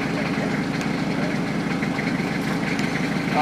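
The engine of a new mulch blower idles steadily with a low, even rumble and faint rhythmic knocking, alone with no voices.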